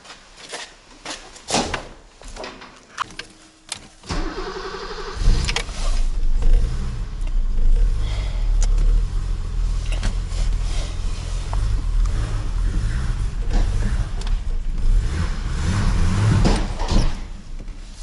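A 1983 BMW 635i engine cranks and catches after some rattling and clicks, then settles into a loud, steady idle up close.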